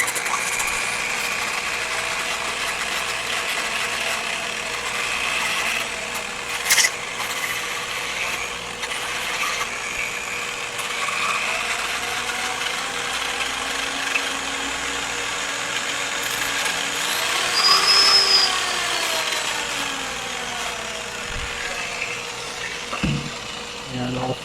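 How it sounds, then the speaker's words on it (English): A wooden rolling pin spins on a lathe while a power sander works its surface, giving a steady, continuous whirring drone with a slight rise partway through. "I'm doing some judicious power sanding here."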